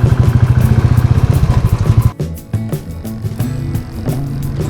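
A Royal Enfield Bullet motorcycle rides on the Kalyani Expressway with a loud, close, thumping single-cylinder beat that dips briefly and then resumes at a lower pulse.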